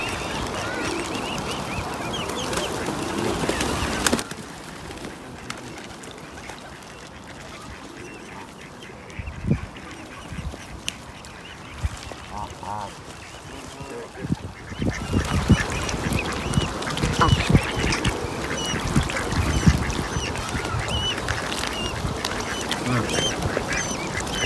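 Waterfowl at a waterside, with a brood of goslings among swans, give scattered soft calls and faint honks over steady outdoor background noise throughout.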